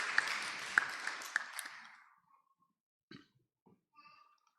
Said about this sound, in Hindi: हाथ ताली बजाइए आप लोग